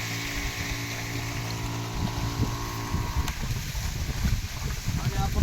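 A running farm sprayer pump flushes rinse water out through its pipe, a steady motor drone with rushing water that grows rougher and louder in the second half, while a voice talks over it.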